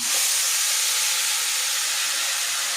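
Ground masala paste sizzling as it hits hot oil with curry leaves in a pan, a loud, steady hiss that stays constant for the full length with no talk.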